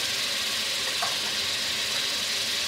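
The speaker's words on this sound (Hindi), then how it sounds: "अब मैं इसमें अदरक लहसुन डालूँगी और उसके साथ भी 5 मिनट इसे भूनूँगी" Chicken with garlic and ginger paste frying in a hot karahi, giving a steady, even hiss of sizzling oil throughout with no talking.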